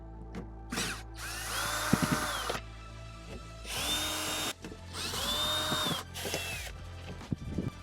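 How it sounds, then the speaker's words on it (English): A power driver backs screws out of a Tesla door speaker, giving two longer whirring bursts plus a few short pulses and clicks, close and fairly loud. "We're just going to unhook it, then take off these screws."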